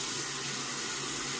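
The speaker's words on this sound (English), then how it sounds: "So I'm going to go ahead and wet the razor here." Tap water runs steadily from a faucet to wet a shaving razor during a shave with a Facon Japanese blade, a continuous close hiss of flow with no talk.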